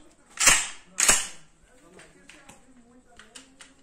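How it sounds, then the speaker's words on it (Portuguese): Two sharp, loud reports from a CBC Military 3.0 12-gauge shotgun with a 19-inch barrel, firing SG 70 mm buckshot at a target 15 metres away, about half a second apart, then fading into quiet outdoor background. "Disparo a 15 metros."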